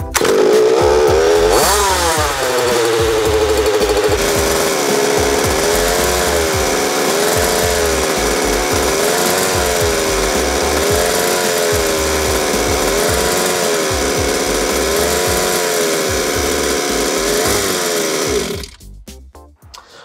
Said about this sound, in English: I'll put this carby on the test motor and just show you what happens when this wears